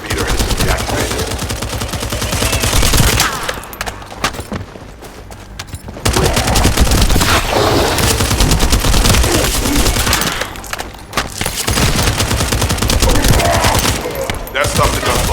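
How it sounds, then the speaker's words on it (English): Sustained automatic gunfire in The First Descendant video game: loud, rapid machine-gun bursts roar almost continuously, broken by two brief lulls before the firing resumes. "That stopped the gunfire."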